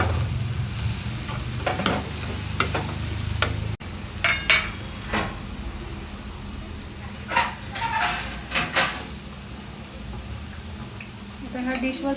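Paneer stirred and frying in a pan of oil for brown rice vegetable pulao, with a steady soft sizzle broken by clinks and scrapes of a spoon against the pan.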